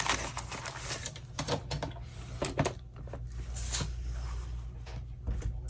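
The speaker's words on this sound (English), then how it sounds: "Actually, let's use the cutter for this." A paper cutter trims brown-backed paper at a crafting table, producing a run of dry, scraping slides and sharp, clicky cuts, close and fairly quiet, with no talk.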